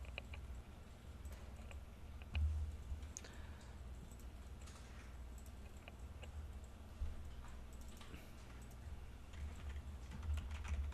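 Keyboard typing while writing a main.js file for a jQuery scroll-based number animation: faint, steady clicking keys with a few louder taps over a soft low hum, no talking.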